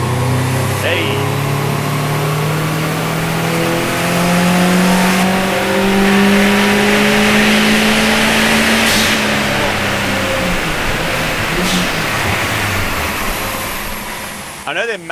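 The 4DMILF engine, a Mitsubishi 4D56 turbo diesel, revs hard on a dyno under added boost, climbing to a loud, strained howl before easing off, with voices heard around it.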